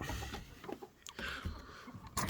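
Chickens and roosters cluck faintly and intermittently inside a backyard coop at night, a few short scattered calls over a quiet background.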